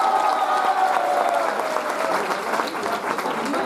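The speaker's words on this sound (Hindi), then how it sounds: "जोरदार तालियां लड़कियों की तरफ से भाई" A crowd claps loudly and continuously at a school annual cultural program, dense sustained applause filling the hall with a faint voice underneath.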